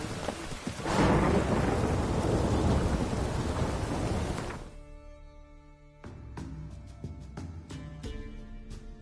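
A loud thunder rumble rolls over steady rain in The Witcher 3 video game, then fades to lighter rain dripping with scattered drops and faint tonal background sounds.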